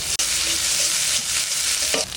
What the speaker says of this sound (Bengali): পেঁয়াজটা ভাজা ভাজা হয়ে গেছে, এবার দেবো আদা আর রসুন।